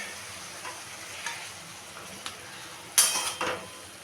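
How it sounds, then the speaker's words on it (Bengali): Fried fish and prawns go into a pan of vegetable curry with spices and are stirred in, giving faint scraping and a brief louder clatter and sizzle near the end, with no talk. "সেই সাথে ভেজে রাখা মাছ আর চিংড়ি মাছ একসাথে দিয়ে দিলাম"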